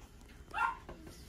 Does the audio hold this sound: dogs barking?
yes